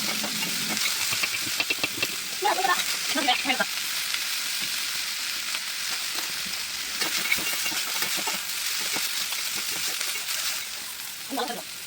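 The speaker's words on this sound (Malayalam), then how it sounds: "എന്നിട്ട് നല്ലോണം ഇളക്കി യോജിപ്പിച്ചിട്ട് തിരിച്ചും മറിച്ചും ഇളക്കി യോജിപ്പിച്ചിട്ട് അങ്ങോട്ട് വഴറ്റിയെടുക്കുക" Sliced onions sauté in oil and ghee for beef ghee rice, a steady sizzle with repeated scraping stirs of the spoon against the pan, close and continuous, no voice over it.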